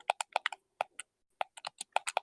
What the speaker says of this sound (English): hey Adam, I think you're clicking